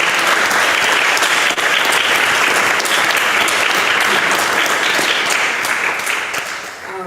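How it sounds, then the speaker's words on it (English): A memorial audience breaks into dense, sustained applause, steady and close for most of the stretch before tapering slightly at the end. "Let's just give everyone a round of applause one more time."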